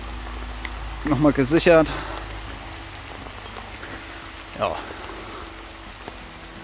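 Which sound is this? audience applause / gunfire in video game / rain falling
rain falling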